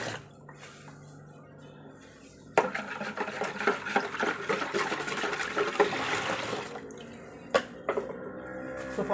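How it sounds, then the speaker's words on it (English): Dissolved nitro soap poured from one container into a bigger one for liquid soap making: a steady splashing, gurgling pour lasting several seconds, followed by drips and a few knocks of the container, with no talking. "here you start off by lifting and pouring into a bigger container your dissolved nitro soap."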